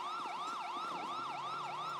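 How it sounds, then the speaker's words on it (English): A wailing ambulance siren from the video game GTA 5 cycles rapidly up and down in a steady, loud, close repeating sweep. "You didn't need to leave your sirens on either"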